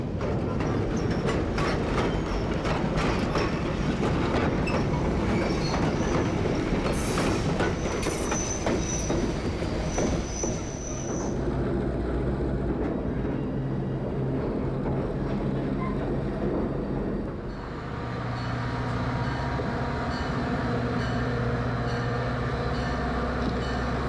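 An Amtrak passenger train rolls along the rails near Cumberland, Maryland, with a constant rumble and clatter of wheels, brief high squeals from the wheels, and a drop in tone partway through as the ride continues.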